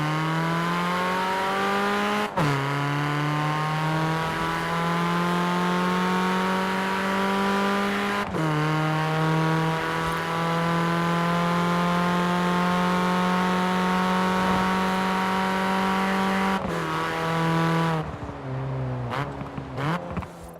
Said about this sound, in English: It's going to sound like the JWC Minis from the past, like the hatchback and the convertible.